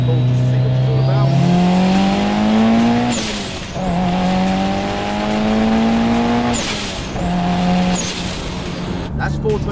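A 420-horsepower Mitsubishi Lancer Evo 7 pulls hard through second and third gear on a street run, its engine note climbing loudly in each gear with sharp gaps at the shifts, heard from close by.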